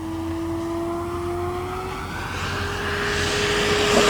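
A Hangar 9 P-47 Thunderbolt electric RC warbird on a 6S setup flies past with a high, screaming whine that holds a steady pitch, then swells louder as it approaches near the end.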